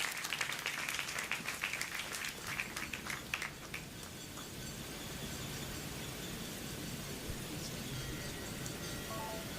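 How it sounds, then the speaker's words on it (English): Audience applause at an SAEINDIA Silver Jubilee celebration: a burst of clapping in a hall for the first few seconds, thinning into steady room noise with a low hum and faint scattered sounds. "A round of applause, please."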